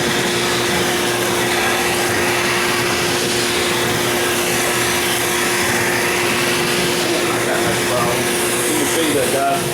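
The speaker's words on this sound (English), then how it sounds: "I'll vacuum all this lumber" A shop vacuum runs loud and constant, cleaning sawdust off resawn lumber, with a steady droning whine and airy rush that never lets up.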